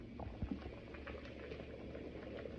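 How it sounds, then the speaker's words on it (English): Beef and lamb curry boiling steadily in a pot on the stove, a dense continuous bubbling and popping close up, with a couple of louder blips partway through. "So I've got it to a boil"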